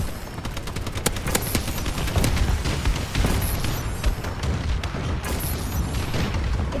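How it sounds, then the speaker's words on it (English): Relentless bombing run in a first-person shooter video game, dense rapid explosions and gunfire booming continuously from start to finish, loud and close with no talk over it. "Friendly bombing run clearing the way"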